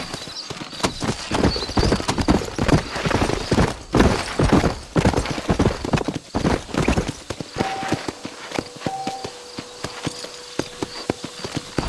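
Horses clip-clop steadily at close range in Red Dead Redemption, a dense run of hoofbeats that thins out toward the end, with a brief whinny in the mix.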